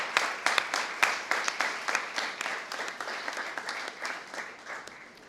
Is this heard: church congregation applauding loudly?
yes